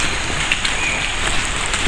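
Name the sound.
small waterfall on the Bhimashankar trek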